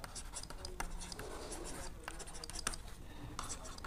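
Pen or marker scratching across paper while trigonometry problems are worked out, a steady run of quick strokes and taps with no talking.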